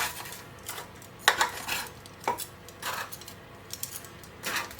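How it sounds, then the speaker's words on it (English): Potatoes being turned over in a pan, with a few sharp scraping clinks of a utensil against metal among quieter shuffling, close and moderately loud. "So just turn everything over so that you get more than one crispy side"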